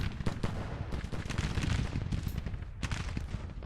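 Massed rifle volleys from an infantry brigade in Grand Tactician: The Civil War, a continuous crackling roar of musketry with sharper bursts near the end, loud and dense, with no voices.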